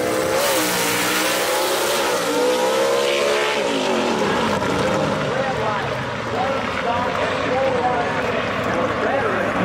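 Gasser drag race cars roar and rev loudly at Kil-Kare Dragway in an A/Gas class race, engines pulling away with rising, then sweeping tones under an excited announcer's commentary.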